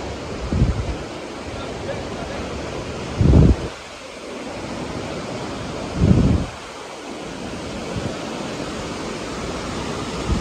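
A hidden waterfall at Devgad Kalvi in the Konkan region pours with a constant broadband rush. Wind buffets the microphone in two heavy gusts.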